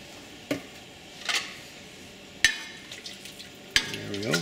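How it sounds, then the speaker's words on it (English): Soy sauce being stirred into Korean rice cake soup (ddeokguk) in a pot, a few sharp utensil clinks and scrapes spaced apart over a soft simmering background, close and moderately loud. "There we go, we'll stir that around."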